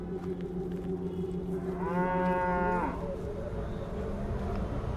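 In an Indian horror video game, a cow lets out a single drawn-out moo lasting about a second. It rises over a steady low background hum.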